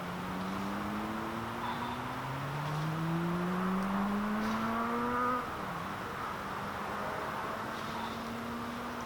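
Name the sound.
distant road traffic noise at a campsite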